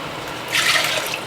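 Watermelon juice ladled into pouring jars, a short close splash of liquid pouring in the second half after a quiet start.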